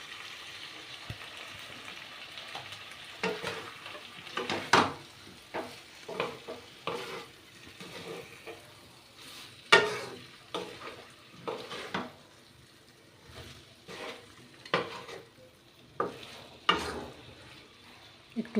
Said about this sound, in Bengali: একটু কষে নেব চাল কুমড়োর সাথে।